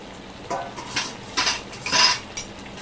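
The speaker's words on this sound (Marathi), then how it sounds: "तर आता झाकण खोलून बघते मी" A metal lid is lifted off a pot of steamed pumpkin, giving a few separate clinks and scrapes of cookware at close range, with no talk.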